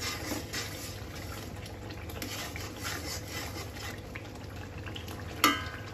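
Spice paste (masala) being fried in a pan, a steady, moderate bubbling sizzle with soft stirring, capped near the end by one sharp metallic clink.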